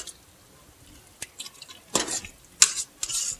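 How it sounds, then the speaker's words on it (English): A spoon stirs a thick Brunswick stew with potatoes, corn and butter beans in a pot, giving a few soft scrapes and wet, sloshing strokes in short bursts. "Now we're going to stir it up"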